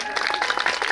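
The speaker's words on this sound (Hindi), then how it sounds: "एक जोरदार ताली" Audience applause at a musical Shri Ram Katha religious discourse, a brief burst of dense, crisp clapping from many hands at steady loudness, with no talk.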